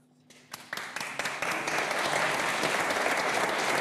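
A church congregation at Mass in Saint-Sulpice in Amettes breaks into applause, starting with a few separate claps that quickly swell into dense, steady clapping filling the nave, loud and sustained.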